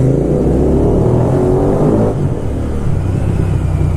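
A Royal Enfield Continental GT650 motorcycle engine roars loud and close, its pitch rising as it revs up and then settling, with no talk over it.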